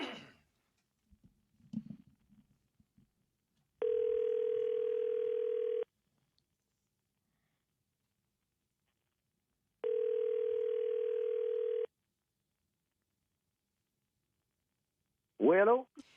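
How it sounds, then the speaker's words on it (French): On an outgoing phone call, the ringback tone sounds twice as long, steady beeps spaced several seconds apart, with quiet line noise between them and a brief voice at the very end. "Donc, Luc, ça va sonner."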